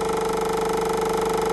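A motor-driven rotor spins steadily during a test run, producing a constant, loud mechanical hum with a fast, even pulsing beat and no voices.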